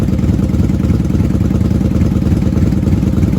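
A 1994 Honda Magna VF750C motorcycle engine running steadily at a fast idle with a slight rev, close up and continuous, with a rough mechanical clatter underneath.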